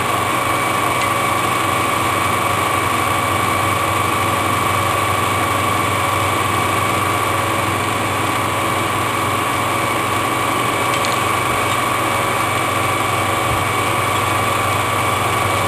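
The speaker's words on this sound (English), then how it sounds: "No big deal, we're just drilling a hole." A steady high-pitched mechanical whine of a drill boring into steel round stock, running continuously at close range with a constant motor hum underneath.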